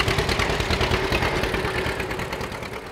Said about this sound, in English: Some of that's the sound of the John Deere two-cylinder.